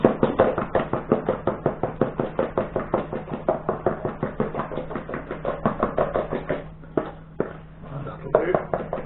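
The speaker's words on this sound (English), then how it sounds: "Stir it up until it gets rid of all the lumps" Sourdough sponge of flour and water stirred in a bowl to work out lumps, making steady, rapid, rhythmic knocking strokes of the spoon that continue throughout and loosen slightly toward the end.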